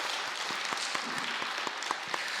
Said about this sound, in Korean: 우리 임마누엘 찬양대에게 우리 감사의 박수 드리도록 하겠습니다.